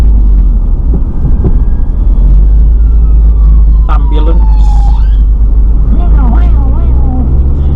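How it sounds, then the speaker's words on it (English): A siren wails from a passing ambulance over loud, steady engine rumble from inside a Nissan Micra, its rising and falling tone sweeping past nearby amid road noise. "Oh, ambulance."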